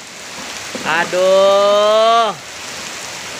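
Steady rain falls throughout as a continuous hiss, while a child's drawn-out vocal cry rises over it for about a second and a half near the middle.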